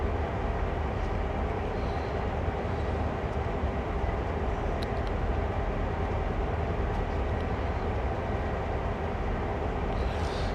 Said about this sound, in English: There's another train coming up the side here.